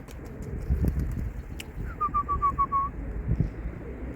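A pigeon's soft cooing calls in a rhythmic run, set over a low rumble of city background noise, at a spot in Szczecin where a large flock of hundreds of pigeons gathers near apartment blocks to be fed.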